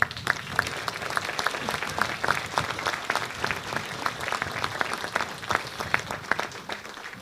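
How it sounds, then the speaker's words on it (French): Townspeople at a mayor's New Year reception applaud a medal recipient, scattered individual claps standing out over a moderate, continuous round of applause in a reverberant hall, fairly distant and even throughout. "qu'on va applaudir si vous voulez bien"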